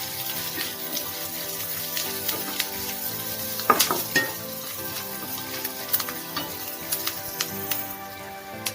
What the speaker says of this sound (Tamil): அது கூடவே கொஞ்சமா கருவேப்பிலை சேர்த்து நல்லா வதக்கிக்கலாம்